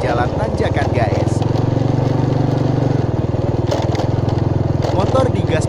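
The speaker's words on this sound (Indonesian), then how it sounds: "Motor digas pelan sedikit, guys, motor kuat jalan." A manual Honda motorcycle engine pulls uphill in first gear at low revs with light throttle, a steady, close, loud chugging putter that holds throughout.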